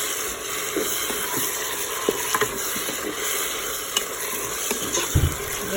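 Chicken with olives is stirred in a Cookeo multicooker, a constant close sizzle running throughout with occasional light spoon scrapes and taps against the pot.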